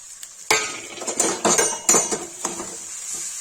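A metal spoon scrapes and clinks against a pan while stuffed eggplant with spices is stirred, a few sharp knocks in quick succession, close and fairly quiet with no talk.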